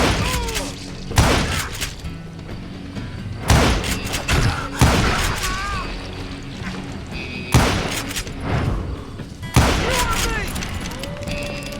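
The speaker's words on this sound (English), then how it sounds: "Who's shooting at us?" Heavy gunfire in the Western shooter Call of Juarez: Gunslinger, with loud booming shots and thuds arriving in repeated bursts, mixed with shouting voices and game effects.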